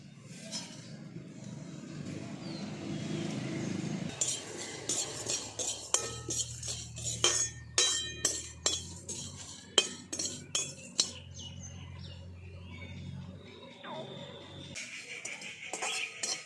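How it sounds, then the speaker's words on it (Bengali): Whole spices and two dried chillies dry-roasting in a pan for a raw green mango murabba, with a metal spoon clinking and scraping against the pan in a close, uneven stirring rhythm after a low hum; no talk. "সমস্ত শুকনো মশলাগুলোকে আমি প্রথমে ভেজে নেব।"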